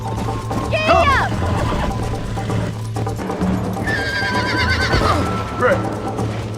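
Horse in Red Dead Redemption neighing loudly with whinnies, hooves clip-clopping in a gallop beneath, and someone talking over the game sounds.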